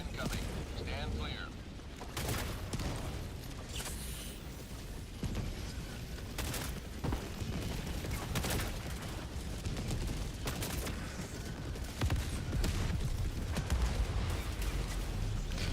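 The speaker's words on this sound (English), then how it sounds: "Orbital barrage incoming." Heavy orbital barrage strike in a multiplayer shooter game, a dense run of repeated booming impacts and rumbling blasts sustained over a steady low roar, loud and continuous with no voices.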